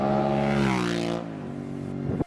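A V-twin engine runs with a steady, harmonic drone that holds for about a second, then drops in pitch and settles to a lower idle-like hum before a brief blip at the end.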